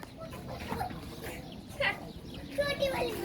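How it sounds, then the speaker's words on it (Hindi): Chicken calls from a rooster at a farm in Kuwait, a few short faint clucks over a murmuring background, with a person talking quietly. "मुर्गा है मुर्गा।"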